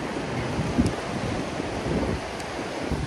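Monsoon wind and waves at the seashore, a steady rush of wind buffeting the microphone over rolling surf, with a few slightly stronger gusts.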